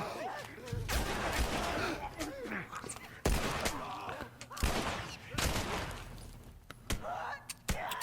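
Gunshots ring out in The Last of Us Remastered, several sharp cracks spaced irregularly across the stretch, mixed with game noise, groans and a speaking voice.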